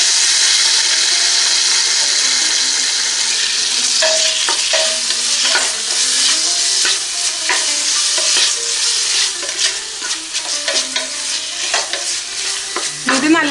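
Onions and tomatoes with masala are stirred in a hot pan for an Arabian madhghuth dish, giving a continuous close sizzle broken by repeated scraping strokes of a spoon against the pan.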